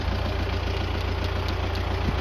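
Tractor engine running at a steady idle, a low, even rumble with a faint regular knock, close by with no voices.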